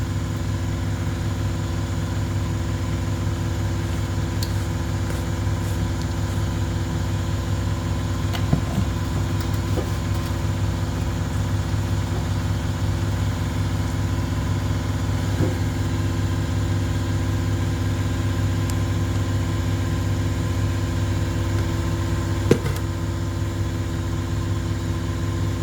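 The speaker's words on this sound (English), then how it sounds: "Sorry, the compressor's so loud." A loud air compressor runs steadily in a workshop beside a car's drained fuel tank, a constant low mechanical drone with a few faint knocks and clicks over it and no voices.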